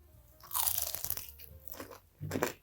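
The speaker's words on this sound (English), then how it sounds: "That is a very, very, very crispy wing." A crispy cornstarch-coated baked chicken wing is bitten, giving a loud, close crunch followed by a shorter crackle and a second sharp crunch.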